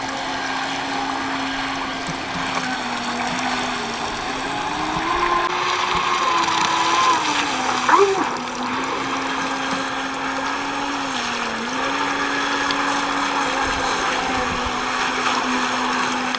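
An RC Thrasher boat on 6S LiPo power runs at part throttle, a steady high-pitched motor whine that wavers slightly in pitch as it moves across the water, at moderate distance with faint background noise.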